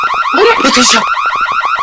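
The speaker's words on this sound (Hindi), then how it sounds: "ये अलार्म की आवाज यहाँ से क्यों आई?" An alarm sounds in a shopping mall at a crime scene in a police drama, a loud rapidly warbling electronic wail repeating steadily throughout, with a brief burst of noise partway through.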